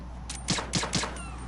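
Three sharp gunshots fire in quick succession in Metal Gear Solid 2: Sons of Liberty, each a short, loud crack over a low, steady hum.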